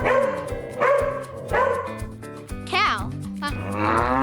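Dog barking in a short rhythmic series of yaps over steady background music, with a higher whine or yelp near the end.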